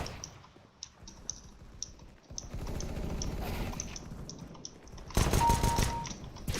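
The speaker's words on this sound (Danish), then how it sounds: "hvis mit tastatur larmer lidt" Computer keyboard keys clatter in quick, uneven bursts during a Counter-Strike session, close and fairly loud, with game sounds and gunfire noise rising over the typing partway through.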